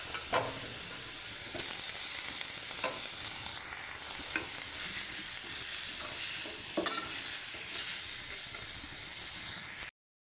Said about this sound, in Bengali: এই যে মাছ আলু কষিয়ে নিতেছি,